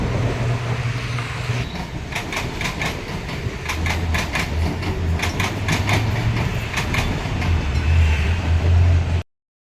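Train at a busy Mumbai railway station: a loud, steady rumble runs throughout, with rhythmic clattering bursts of wheels on track through the middle and a low drone underneath, and no talking.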